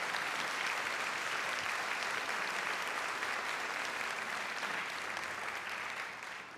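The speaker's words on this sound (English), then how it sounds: "let us give another round of applause just for our distinguished performers" Sustained applause from an audience at a baroque music performance, dense and steady clapping filling the room for several seconds before tapering slightly at the end.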